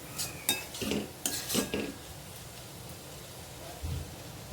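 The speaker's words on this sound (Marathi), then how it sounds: "मध्ये मध्ये भाजी मिक्स करून घ्यायचे ढवळत राहायचं आहे" A spoon scrapes and clanks in a large kadhai as chopped fenugreek leaves are stirred over medium flame, several quick metallic strokes in a row, then quieter rustling. No one speaks.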